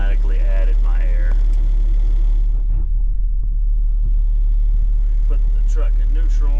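A pickup truck's engine idles with a steady, deep, loud rumble throughout, while a person talks over it near the start.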